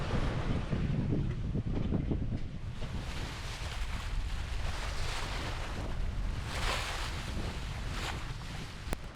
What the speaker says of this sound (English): Wind's picked up a bit, probably like 16, 17 knots now.